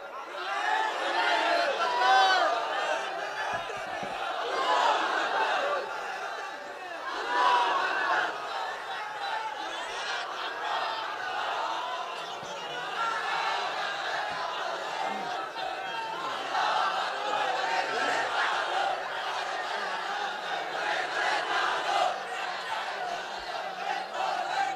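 A large crowd at an Islamic sermon (waz) chants slogans in unison. Massed voices swell and ebb steadily and loudly throughout.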